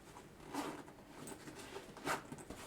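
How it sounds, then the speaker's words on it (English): A zipper is pulled closed on a Lenovo Select Targus 16-inch Mobile Elite laptop backpack, heard as two short, close rasping pulls over a soft rustling background. "as long as you can close the zipper"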